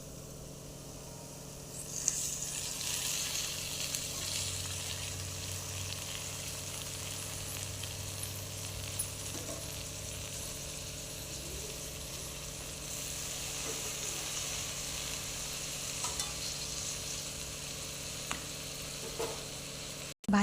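Fenugreek greens frying in a pan over a gas flame, a low, steady sizzle and hiss that goes on for some time under a faint background hum, with no talk.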